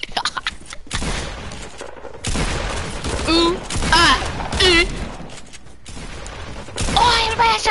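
Video game gunfire in bursts, loud and close, cutting in over a steady background, with people talking through it.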